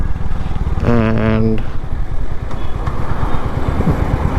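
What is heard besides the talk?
Royal Enfield Hunter 350 motorcycle riding, shifting gears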